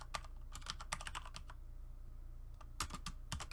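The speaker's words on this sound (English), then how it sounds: "Type in John Smith, capitalized J, capitalized S, space dash dash Crunchyroll" Someone types on a computer keyboard in irregular bursts of crisp, close key clicks, separated by a short pause, with no talking.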